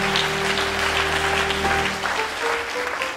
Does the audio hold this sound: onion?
no